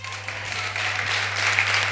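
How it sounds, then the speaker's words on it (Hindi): A church congregation claps its hands together as a dense crowd of clapping that swells slightly, heard over a steady low electrical hum. "जो 100 बोलता है ऊंचा करके ताली बजाइए ऐसे"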